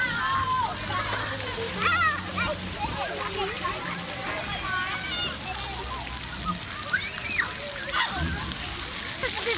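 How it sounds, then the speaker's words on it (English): Water splashing and sloshing at the new Splash Park in Watsessing Park, Essex County, with steady spray and splashes while children's voices and shrieks ring out over it and people talk nearby. "We're at the new Splash Park in Watsessing Park in Essex County."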